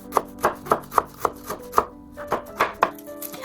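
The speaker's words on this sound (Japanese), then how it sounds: "ゆず茶用の方、すごく細く切ります。" A knife finely slices yuzu peel on a cutting board for yuzu tea, giving about a dozen crisp, evenly spaced chopping taps close up, with no talking.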